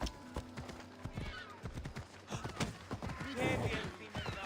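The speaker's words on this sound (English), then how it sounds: "Watch out, I'm on a horse." Hooves clip-clop rapidly in a steady gallop in Assassin's Creed Odyssey, and a horse gives a loud whinny partway through, with some game sound effects in the background.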